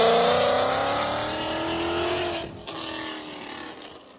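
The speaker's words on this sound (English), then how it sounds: "Corsa came out with a Corvette muffler, and here's how it sounds." A Chevrolet Corvette fitted with a Corsa muffler sends out a loud, deep exhaust roar that winds up and then fades as the car pulls away, with a brief sharp cut partway through.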